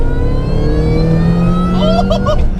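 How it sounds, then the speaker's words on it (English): Modified Mini Cooper S with 220 BHP revving up through the gears, a continuous loud engine note with rising harmonic tones and a brief shift change near the end. "you rev it right round into the next gear"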